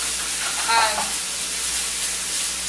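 Sausage sizzling in a frying pan on a small stovetop burner, a steady bright hiss and crackle filling the short stretch, with a brief faint voice or stir sound near the start.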